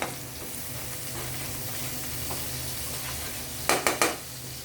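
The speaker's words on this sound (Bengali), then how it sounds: "আমার মশলাটা ভালো মতো কষানো হচ্ছে।" Spice paste with salt, chili and turmeric stir-frying in a pan, a steady close sizzle throughout, with three sharp scraping stirs of a utensil near the end.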